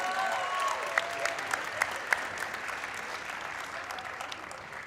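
An audience at a high school girls' basketball game applauds the senior players, a moderate wash of clapping with a few sharper claps that slowly tapers off.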